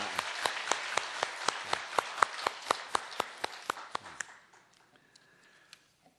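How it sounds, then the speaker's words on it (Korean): In a church service, a congregation welcomes a newcomer with clapping heard as a rhythmic run of sharp, evenly spaced claps that stops after about four seconds, leaving a quiet room. "우리 박수로 환영하겠습니다."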